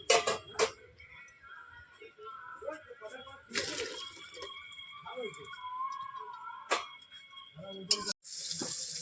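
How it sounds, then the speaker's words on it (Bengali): Boiled elephant foot yam stalks and jackfruit seeds being drained of water in a home kitchen, with clattering pot and utensil knocks, a brief splash and trickle of water, and scattered sink noises, fairly close. "এবার আমি নামিয়ে জল জল ঝরিয়ে নেবো"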